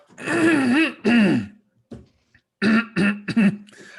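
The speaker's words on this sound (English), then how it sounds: "I hit the record button and then I have to cough" A person coughs and clears their throat several times, short harsh bursts separated by brief pauses.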